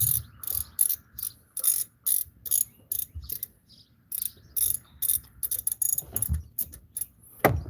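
A ratchet wrench turns a bolt on a Ford, sounding as quick bursts of close, crisp ratcheting clicks with short pauses between strokes.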